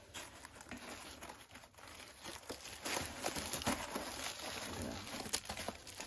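Crinkly Reflectix foil-bubble insulation roll being handled close up, a steady crackling, crumpling rustle with scattered sharper crinkles and no talk, heard while fitting a Coleman cooler.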